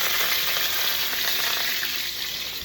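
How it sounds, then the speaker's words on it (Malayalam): Mustard seeds dropped into hot oil in a pan sizzle and fry with a dense, steady hiss, close and continuous, without talk. "കുറച്ച് എണ്ണ ചൂടാകുമ്പോൾ കുറച്ച് കടുക് ഇടുക"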